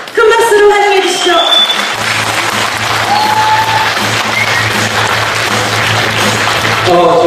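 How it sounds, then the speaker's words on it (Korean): A lecture audience gives a loud, continuous burst of applause welcoming a speaker to the stage, with tonal music and voices mixed in beneath it. "큰 박수로 환영해 주시죠"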